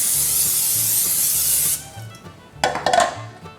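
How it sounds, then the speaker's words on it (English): Steady, loud aerosol hiss of cooking spray on a baking pan for nearly two seconds, then quieter scraping and rustling with a couple of short bursts. "Every inch of it, spray it really good."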